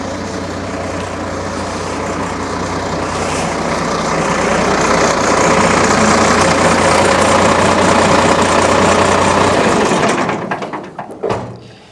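A Farmall 806 tractor engine idles steadily after a cold start, a loud, close, continuous low rumble that ends abruptly near the end.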